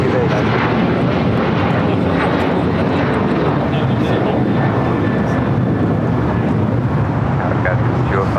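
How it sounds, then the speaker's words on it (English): A United Airlines jet taking off from LAX, a loud continuous engine roar with wind buffeting the microphone, sustained throughout with no break. "That was United Airlines flight 1635 heading to Dulles"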